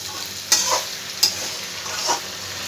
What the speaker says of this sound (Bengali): দেখো মশলার সঙ্গে আমার আলু পটলগুলো খুব ভালো করে কষানো হয়ে গেছে।